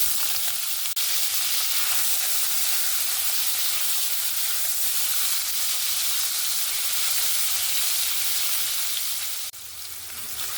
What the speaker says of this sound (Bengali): ওই তেলের মধ্যেই আমি পনিরটাকেও হালকা করে একটু ভেজে নেব।